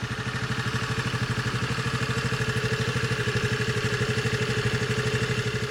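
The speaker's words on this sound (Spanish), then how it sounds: "este ha sido el sonido del motor, el sonido del escape de la Honda Navi" A small Honda Navi motorcycle idles steadily up close, its single engine and exhaust making an even, low, pulsing putter that holds at the same level throughout, with no voices.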